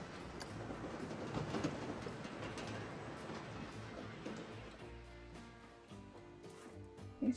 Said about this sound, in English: Okay, so we've got the train and stuff going.